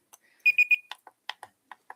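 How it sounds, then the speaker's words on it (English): A city council meeting timer goes off with three sharp, bright electronic alarm beeps in quick succession, followed by soft scattered ticks and clicks in an otherwise quiet room. "I'll set up my really obnoxious timer"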